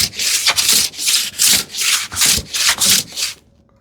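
A hand smoothing plane skims rough bandsawn wood in about eight brisk, evenly spaced strokes, each a close, airy shearing rasp, before falling silent.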